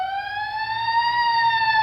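A civil defense air raid alarm siren sounds a steady, loud wail that rises slowly in pitch over about two seconds, with layered harmonic tones and no voices.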